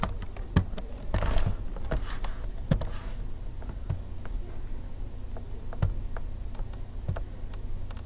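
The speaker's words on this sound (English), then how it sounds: "So we'll type in true this time." Keystrokes on a computer keyboard while a value is entered into Java code: scattered clicks and small bursts, one clustered flurry early on, then separate taps spaced out over a steady faint room hum, with no voices.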